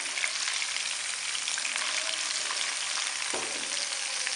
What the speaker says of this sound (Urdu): 10 سیکنڈ پکانے کے بعد اب اس میں گرین پیاز کا وائٹ والا حصہ شامل کریں گے